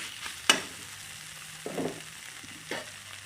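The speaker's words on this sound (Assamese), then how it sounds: "এতিয়া ইয়াতে পানী দিছোঁ" Water is poured into a hot pan of fried ingredients for an Assamese sour curry, giving a sharp hissing sizzle followed by two softer bursts of sizzling over a quiet background.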